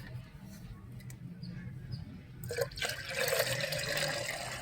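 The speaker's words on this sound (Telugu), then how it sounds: "దీంట్లో వాటర్ పోసేసుకోవడమే" Water is poured into a container for a homemade natural pesticide for rose plants, a splashing, filling rush that starts partway through and keeps going after quieter handling noises.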